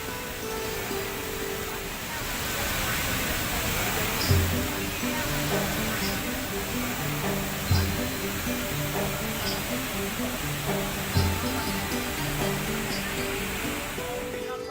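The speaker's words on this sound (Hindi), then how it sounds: "रतलाम का यह वाटरफॉल भी रोमांच पैदा करता है।" A waterfall in Ratlam, swollen by rain, gives off a steady broadband rushing roar throughout, with a voice and faint tonal sounds running over it.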